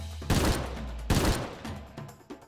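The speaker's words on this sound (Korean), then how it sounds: "총소리 들었어?" Two loud bursts of gunfire, each a rapid volley of shots, ring out in a children's story about endangered tigers hunted for their skins, followed by fainter scattered pops and a trailing rumble.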